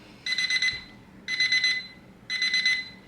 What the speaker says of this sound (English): somebody turn off that timer